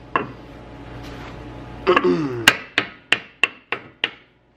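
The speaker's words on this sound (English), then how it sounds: "Now I guess we just hammer it on with wood." A series of sharp hammer blows strikes a part on with wood during BMW E34 540 front suspension work, about seven evenly spaced thwacks in quick succession after some rustling and handling noise, close and fairly loud.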